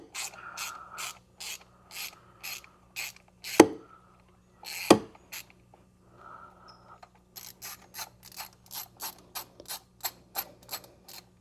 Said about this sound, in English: I love these gear wrench 120 tooth ratchets.